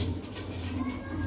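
Desi pigeons coo softly in a loft, a low murmuring hum that runs steadily throughout, faint and close.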